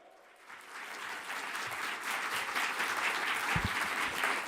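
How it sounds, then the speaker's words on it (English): A crowd applauds steadily, a dense wash of clapping that swells in and holds for several seconds. "Thank you for that applause"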